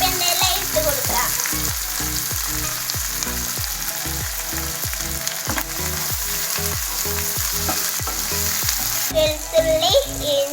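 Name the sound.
curry leaves sizzling in hot oil for kadai chicken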